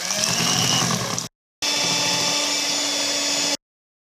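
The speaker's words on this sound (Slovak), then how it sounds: "Dodajeme mlieko a mixujeme ďalej." Cake batter for a Polish Murzynek is whirred with a mixer as milk is added, a loud close motor drone that cuts off briefly, then resumes steady before stopping.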